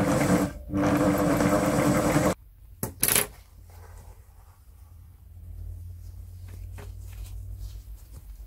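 Seams are sewn on an otter fur jacket, a fast loud mechanical stitching whir for a couple of seconds, then stopping, followed by a few knocks and quiet handling sounds.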